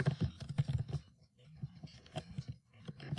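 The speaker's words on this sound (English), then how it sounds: "We're just going to type Mr. G" Quick bursts of typing on a computer keyboard, close and fairly quiet, with irregular clicking keystrokes and a short pause in the middle.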